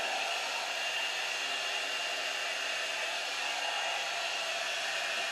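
An Eden Creative + Hair One Step blow dryer and styler, made in China, runs steadily at close range as a continuous airy whoosh with no other sound.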